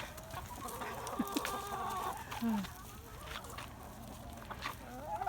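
Chickens cluck in short bursts close by, with a few sharper squawks over a steady outdoor background.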